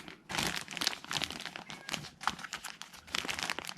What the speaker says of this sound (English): Ziploc freezer bags here.